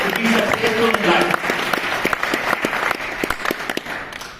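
Audience applause fills a hall at the Zeniq Safir Global Summit, a dense, steady wash of many hands clapping with some voices mixed in, fading slightly toward the end.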